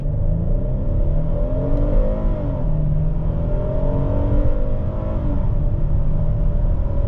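A 2025 Hyundai Palisade SUV in sport mode launches hard from a brake-torque start, its engine note climbing steadily through the gears in a loud, continuous, smooth surge with no talk.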